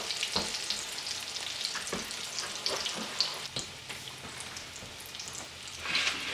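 Breaded green tomato slices fry in a pan with a soft, steady sizzle and scattered sharp pops and crackles, fairly quiet and close, with no one talking.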